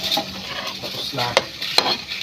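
Food gets stirred in a frying pan with a utensil: brief scraping strokes over a light sizzle, punctuated by two sharp metallic clacks against the pan.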